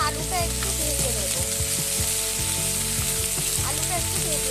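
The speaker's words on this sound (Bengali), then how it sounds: "এবার আলুটা একটু ভেজে নেব।" Potato pieces fry in a pan, producing a steady loud sizzle with a few stirring clatters. Tonal kitchen sounds run beneath it and no one speaks.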